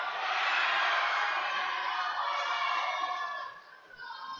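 A crowd cheers and roars at a lead and top rope provincial climbing competition, a loud sustained wash of voices that swells and then gradually fades.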